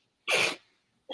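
A single sharp human sneeze, close and fairly loud, with a short breathy tail, followed by the start of another breathy sound.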